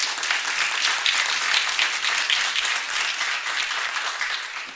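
Audience applause at a county meeting welcoming a young honoree, a full, sustained wash of many hands clapping at moderate distance that holds steady and begins to fade at the end.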